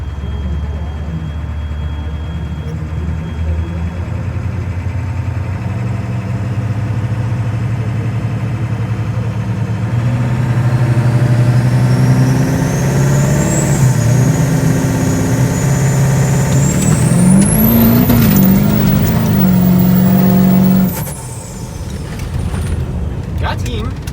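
A built 7.3 diesel dually pickup engine idling loudly, then revving up with a rising whine before dropping back, heard close and steady throughout.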